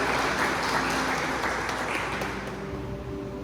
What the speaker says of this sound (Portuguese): Você pode aplaudir o Senhor aí um momento?